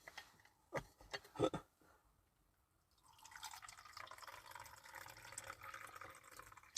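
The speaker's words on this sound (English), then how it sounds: "Pour some tea, William, dear boy." Tea poured into a cup, a few faint drips and clinks first, then a steady, quiet trickle of liquid running alone for several seconds.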